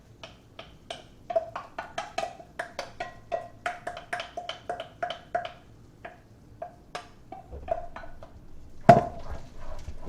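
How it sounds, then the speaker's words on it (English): A utensil stirs heavy cream into carbonara pasta in a pan, making a steady run of light clinks and scrapes against the metal, close and fairly quiet, with no talking. "We stir it all together."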